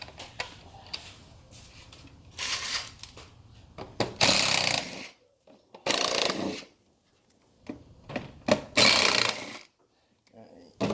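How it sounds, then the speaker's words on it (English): A cordless electric impact gun works on a 2010 Audi B8 A4 2.0T during a cold air intake install, firing in several loud, rattling bursts separated by pauses with quieter handling noise. "Grab my cordless impact."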